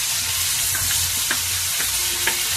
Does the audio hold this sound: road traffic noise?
no